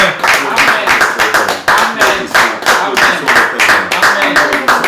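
A church congregation claps during a French-language worship service, loud, close rhythmic hand claps in a steady beat with voices singing or calling out alongside.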